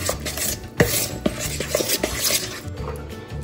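A spice paste of turmeric and garam masala is stirred and mixed in a bowl, with repeated scraping and clinking strokes of a utensil against the dish, close and fairly loud, and no talking.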